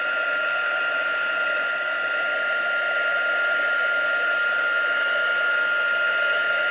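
A heat tool set to its number 2 setting blows hot air to melt white embossing powder, a steady whooshing roar with a constant whine that stays loud and unbroken throughout.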